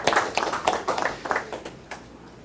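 Audience applause at a plenary session of a 2023 conference, greeting speaker Jacqueline Morris: a short burst of dense clapping that peaks at the start and then fades away over about two seconds, with no talking over it.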